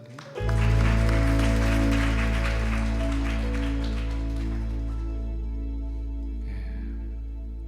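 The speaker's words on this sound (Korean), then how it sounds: "주께 감사의 박수 올려드릴게요." Congregation applause fills a church service, a dense patter of clapping over sustained held keyboard or organ tones that slowly tapers off over several seconds.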